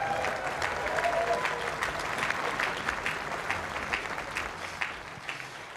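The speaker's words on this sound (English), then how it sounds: "I think that's a big round of applause for that." A Goodwood crowd gives Richard Petty a warm round of applause, many hands clapping thickly and evenly for several seconds at a steady level.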